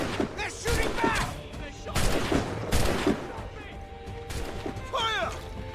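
Bursts of musket gunfire crack out in rapid volleys during a naval battle in Assassin's Creed Rogue, mixed with shouted commands and battle cries from soldiers.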